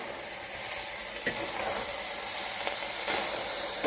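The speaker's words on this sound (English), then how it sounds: "you just continue to stir it" Nacho ingredients sizzling steadily in a hot pan as they are stirred, a bright, even hiss with a few soft scrapes and pops, close and alone without talk.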